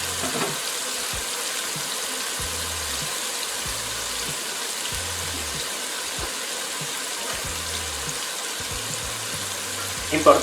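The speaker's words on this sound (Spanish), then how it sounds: "Agregamos la cerveza." Cusqueña dark beer pours into a Peruvian chicken stew in a pot, a steady liquid gush and splash running throughout with soft bubbling underneath and a brief clatter at the end.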